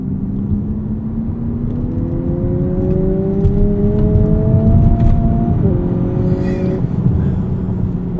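A 2023 Lexus UX 250h F Sport hybrid with AWD pulls away from a stop with a steadily rising electric whine over a low road rumble, heard from inside the cabin and building in loudness across the run.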